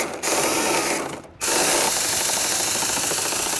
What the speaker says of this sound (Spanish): Para colocar las masas, yo utilizo un tornillo autorroscante. Lo vamos a poner sobre la carrocería del vehículo.